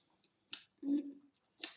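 Someone crunches sour American candy, giving a few brief crisp bites and squishy chewing sounds close to the mic, with a short burst of low voice in between.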